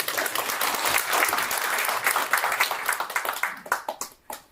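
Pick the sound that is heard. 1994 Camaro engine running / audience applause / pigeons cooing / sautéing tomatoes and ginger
audience applause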